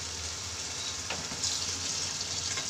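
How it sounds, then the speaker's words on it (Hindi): Water poured into a cooking pot of frying chickpeas for a rice and chickpea dish, a steady wash of hiss and sizzle with a brief pouring gush partway through, close and moderately quiet. "यहां पे हम ऐड करेंगे वाटर,"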